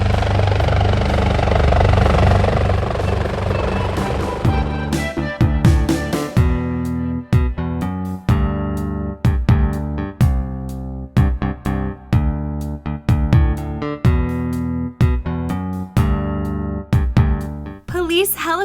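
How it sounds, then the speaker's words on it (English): A police helicopter's engine drones steadily at first, then gives way to a loud, close, rhythmic thumping of rotor blades that chops on without a break and with no talk. "Police helicopter."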